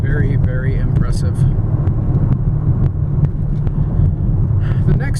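A 2010 Chevrolet Camaro SS with the LS3 6.2 V8 and six-speed manual drives along with a steady low engine drone and road rumble inside the cabin, while someone talks over it.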